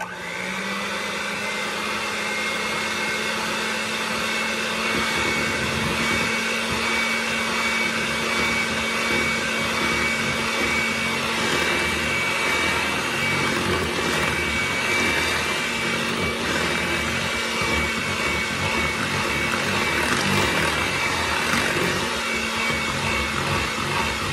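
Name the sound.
mixer beating German chocolate cake mix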